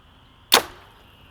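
A single arrow loosed from a Darton Prelude 32 compound bow punches through paper during tuning, one sharp, loud snap with a short decaying tail over a quiet room hum.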